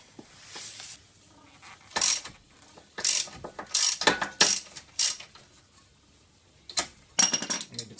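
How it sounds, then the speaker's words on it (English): A ratchet loosens the pinch bolts on the front control arm knuckle of a Subaru, giving several short bursts of rapid clicking with brief pauses between them, close and fairly loud. "Need to loosen the pinch bolts."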